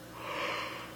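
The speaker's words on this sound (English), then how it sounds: "so forgive me for that yawn" A single drawn-out human yawn, a breathy rising and falling exhale lasting about a second, close and alone.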